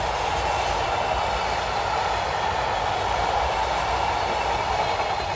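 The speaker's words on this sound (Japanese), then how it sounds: "新幹線の線路を貨物列車が普通に通ってますね。" A freight train rumbles steadily past on Shinkansen rails near the Seikan Tunnel entrance, a continuous roar with rhythmic wheel clatter, fairly close and unbroken throughout.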